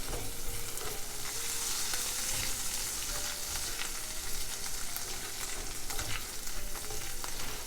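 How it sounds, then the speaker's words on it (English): Anchovies, garlic and red peppers frying together in a pan for steak pizzaiola, a dense, even hiss of sizzling oil that stays steady and close throughout, with no voices. "And you can smell the anchovies as they fry up."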